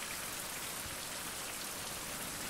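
Rain falling outside, a steady, dense hiss of drops on surfaces that holds at an even level throughout, with no voices or other sounds.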